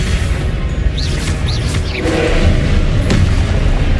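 Confringo spell blasts in Hogwarts Legacy combat boom heavily and continuously, with a few whooshing casts and impacts layered over a loud, rumbling roar.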